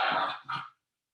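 A dog growls and snaps in a short burst: a tense, intense snarl up close, a brief pause, then a second sharp rise before it cuts off into silence.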